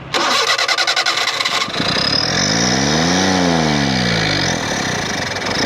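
An engine cranks with rapid close pulses, catches and fires up, then revs up to a peak and winds back down to a steady loud idle, close to the listener.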